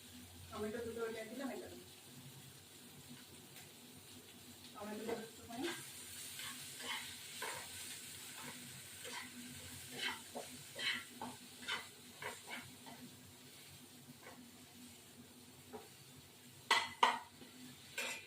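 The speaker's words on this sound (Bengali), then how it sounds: "ভাজা ভাজা করবো" Soft sizzling in a pan as spice powder and tomato are fried, with repeated scraping and stirring strokes and a few utensil clinks, and a voice speaking briefly near the start.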